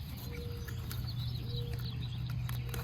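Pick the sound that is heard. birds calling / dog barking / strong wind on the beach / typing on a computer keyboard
birds calling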